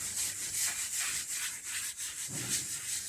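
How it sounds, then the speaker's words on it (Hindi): Foam applicator rubbing polish onto a car dashboard, a soft rhythmic swishing scrub repeating in short strokes, close and steady with no talking. "बट फॉर्म मिल गया तो हमने हल्का हल्का इसको फॉर्म से ऐसे करके लगा लेना।"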